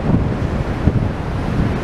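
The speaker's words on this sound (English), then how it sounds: "I am on the breezy, windy Central Promenade." Strong gusty wind buffets the microphone on Blackpool's Central Promenade, a constant roaring blast of noise with waves and surf rumbling beneath it.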